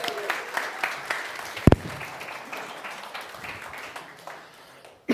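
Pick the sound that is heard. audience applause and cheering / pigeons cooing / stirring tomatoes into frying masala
audience applause and cheering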